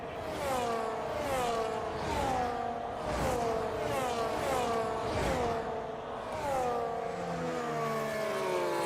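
F1 race cars in a video game at Imola, engines revving and whining in repeated rising sweeps as cars pass in quick succession, loud and continuous without any talk.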